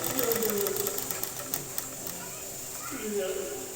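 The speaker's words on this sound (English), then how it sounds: "Stitch the piping piece." Sewing machine stitching a piping piece onto a sleeve in a diamond-shape design, a steady fast mechanical whir running throughout with faint voices underneath.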